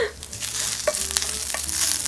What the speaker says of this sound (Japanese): ジュージューって音からこういうパチパチっていう音が変わってきます